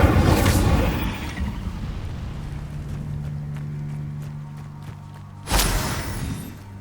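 Incendio fire spell cast in Hogwarts Legacy: a loud whooshing burst at the start, then a low lingering rumble, and a second sudden fiery blast near the end.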